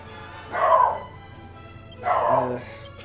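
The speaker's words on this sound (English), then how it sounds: "Sorry, that's my dog." Pet dog Ringo gives two separate barks, the second with a whiny edge, moderately close over a quiet background hum.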